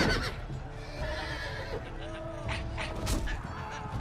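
Game horses in Telltale Game of Thrones neigh and whinny through several loud, shrill calls over churning hoof clatter and background din, with no talk on top.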